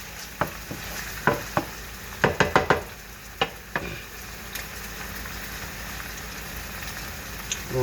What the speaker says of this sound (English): Move these onions around, let these onions dance a little bit longer.